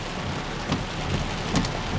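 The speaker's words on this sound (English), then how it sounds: "Look at that rain pouring, that water pouring down." Heavy rain pours down steadily near a full farm pond and creek, a dense, loud hiss of falling water with a few faint low rumbles underneath.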